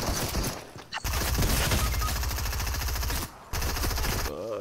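Rapid automatic gunfire from the video game Fortnite, loud sustained bursts of machine-gun fire with a brief pause near the start and another gap toward the end.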